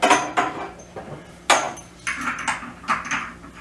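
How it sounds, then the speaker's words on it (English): A hose fitting with O-rings is hand-tightened onto a Harvest Right freeze dryer, giving a few sharp plastic-and-metal clacks and knocks close up, spaced irregularly with short scraping handling noises between them. "next we're going to hook our hose up"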